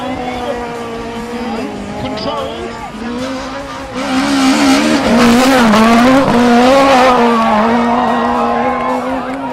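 A race car at the King of the Hill hill climb in Barbados climbs with a loud, revving engine whose pitch rises and falls through gear changes, growing louder midway and staying near.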